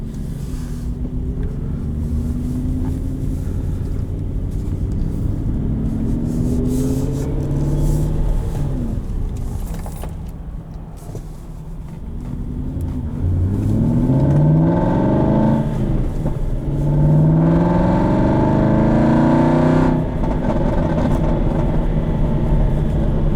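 A 2006 Aston Martin V8 Vantage with a manual gearbox and a pop tune, heard from inside while driving: the engine climbs through the revs and changes gear, rising and falling loudly against steady wind and road noise.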